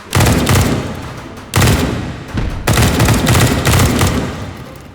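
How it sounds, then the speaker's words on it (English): Rapid bursts of gunfire from zombies in the VR shooting game H3VR, loud and close, in several sustained volleys separated by brief gaps. "Oh, we're taking fire here."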